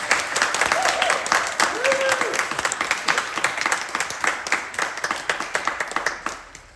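An audience at an annual church meeting breaks into sustained applause and clapping to approve the vestry slate, a loud, dense burst of hands with some cheering voices mixed in.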